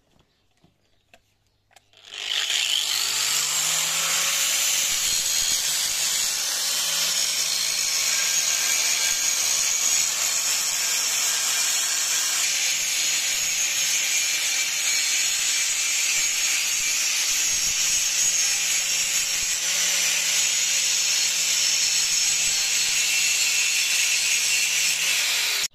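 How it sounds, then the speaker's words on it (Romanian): An angle grinder grinds metal on a clutch housing while a decorticator is being fitted, a loud, steady, high-pitched whine that starts after a short quiet lead-in and runs unbroken for over twenty seconds with no talking. "Acum o să polizez un pic aici cu flexul ca să mai iau din el."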